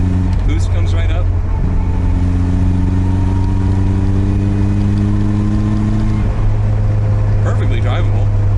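A Nissan 200SX turbo engine runs loudly up close, its pitch rising steadily as it revs and accelerates, then dropping back before it picks up again, with a strong low drone and talk in the background.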